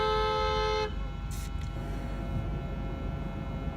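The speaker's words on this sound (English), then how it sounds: "people are beeping because they're getting impatient" A loud, sustained car horn from an impatient driver blares for under a second, then gives way to steady traffic rumble behind a garbage truck with a couple of faint short beeps in the background.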